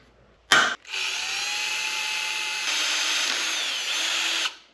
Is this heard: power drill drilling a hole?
yes